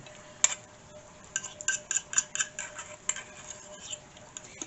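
Cooked grits being spooned into the bottom of a casserole dish for a breakfast casserole, with a run of light metallic clinks and scrapes of spoon against dish, close and fairly quiet, no talk.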